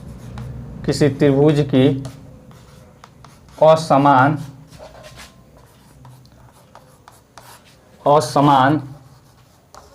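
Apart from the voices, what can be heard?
writing on a board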